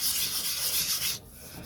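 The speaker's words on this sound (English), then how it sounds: "Well, let's do some sanding." Sandpaper rubs briskly over a wooden surface near a binding, a close, steady gritty scrubbing for about a second before it stops and leaves a quiet room.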